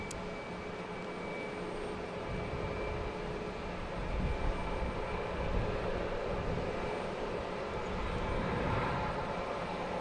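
A small Cape Air propeller plane arrives from Martha's Vineyard at Boston Logan Airport, its steady engine drone holding broad and moderately loud from start to finish, with no talking over it.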